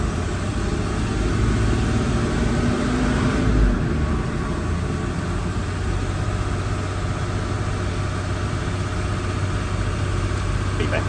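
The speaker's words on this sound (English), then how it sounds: "Now to fill the torque converter, it says throttle to 2000 RPM for at least 30 seconds" A Land Rover Discovery 4 engine is held at a steady 2000 RPM in neutral during a ZF 8HP gearbox oil change, producing a constant, even mid-pitched engine drone close by with no talk.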